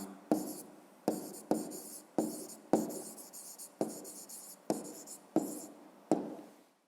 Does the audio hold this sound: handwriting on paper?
yes